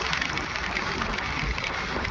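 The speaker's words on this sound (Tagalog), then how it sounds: "Malakas yung vibrate ng motor oh." A small boat's motor vibrates with a steady, loud, broadband rumble and drone, mixed with wind buffeting the microphone, continuous throughout with no speech.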